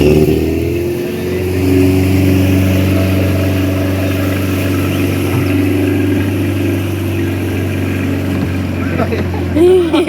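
A motorbike engine running steadily, a loud low hum held throughout with slight shifts in pitch, while people talk and cheer over it nearby.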